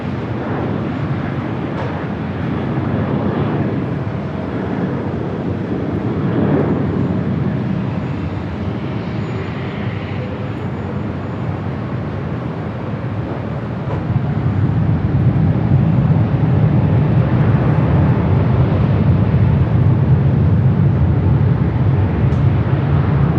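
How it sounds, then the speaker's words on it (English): An A350 airliner takes off at Los Angeles airport with a steady, broad jet roar that swells louder partway through and holds strong to the end, with no voices. "A350 cleared for takeoff."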